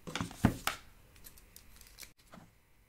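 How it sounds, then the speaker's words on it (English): Plastic wrapping on a DJI Osmo Pocket box is cut open up close: a few sharp snips and crinkles at the start, then faint rustling and a last soft crackle. "there is a plastic wrapping around this box. So let me go ahead and cut this open."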